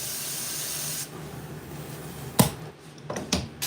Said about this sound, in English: Barely just gonna spray right here.